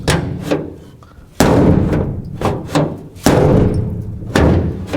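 An old rusty car door with bare metal panels and an unfinished lock slams shut several times, each sharp loud metallic bang ringing briefly before fading, separated by short pauses and lighter knocks.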